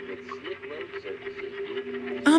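A radio tuned to a late-night talk show warps into a distorted signal, with wavering tones and warbling voice-like sounds running steadily throughout and a sudden harsh burst of noise at the very end.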